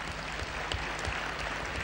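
Audience applause greeting a guest's arrival at the head of a newspaper during a televised panel, a steady dense patter of clapping that fills the whole stretch without speech.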